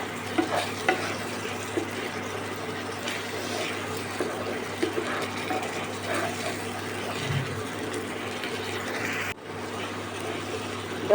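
A spiced aubergine mixture stir-fries in oil with a continuous dense sizzle and scraping stir, close and steady throughout, with one brief dip near the end.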